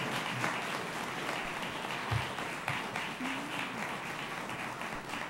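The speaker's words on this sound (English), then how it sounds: "Let's give all of our candidates a big round of applause." An audience at a Kissimmee city commission candidates' debate claps and applauds steadily for several seconds, a dense wash of hands at a constant level, with no voices standing out.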